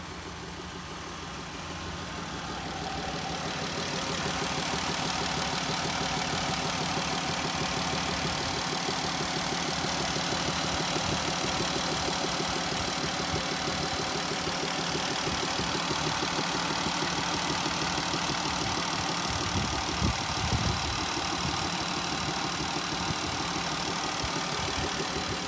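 A 3.6-liter V6 with 280 horsepower and a six-speed automatic in a 2020 RAM ProMaster 3500 cargo van idles steadily and close by, a continuous low engine drone that settles after a quieter first few seconds.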